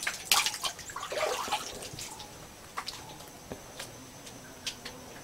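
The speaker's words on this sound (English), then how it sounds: "there's water streaming out of there, and then it flows down into the waterfall" Spring water streams out of a cave wall and flows into a waterfall at a pilgrimage site near a temple in Ahobilam, with soft trickling and scattered drips, fairly quiet and without talk.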